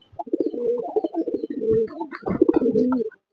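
Pigeons, a family that has been bathing, cooing closely in low, throaty, repeated warbles across the whole stretch, with no voices.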